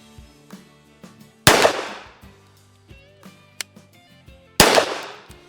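Two sharp, loud pistol shots from a .45 fitted with a red dot sight, fired at 25 yards at an outdoor range, are spaced about three seconds apart, each followed by a ringing echo, with faint clicks and handling noise between them.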